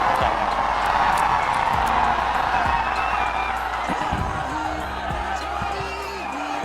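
Dense outdoor rally crowd in Bhojpur, Bihar, clapping and cheering steadily in welcome for Akhilesh Yadav, a continuous loud wash of applause and shouts throughout, with no clear speech on top.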